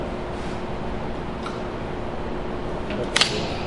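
A camera shutter snaps twice in quick succession near the end of a 5-second long exposure, after a stretch of quiet background hiss.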